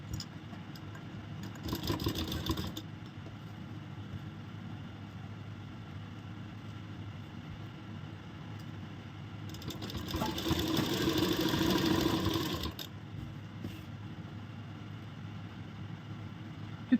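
A sewing machine stitching piping onto a kurti runs in two bursts of rapid mechanical whirring, one short and one longer, against quiet room hum, with no talking.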